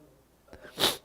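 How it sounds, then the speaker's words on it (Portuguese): A single short, sharp cough from someone speaking Portuguese, close and alone, a brief explosive burst with no talk around it. "É que às vezes eu dou uma tossida aí"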